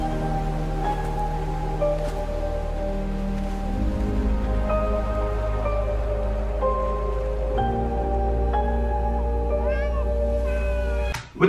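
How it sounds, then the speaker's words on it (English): A cat meows several times over steady anime-style music, the short mewing calls rising and falling above a continuous instrumental bed, ending abruptly. "I think it's just a cat."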